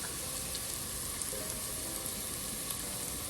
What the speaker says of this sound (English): And now we're gonna saute this for 1 to 2 minutes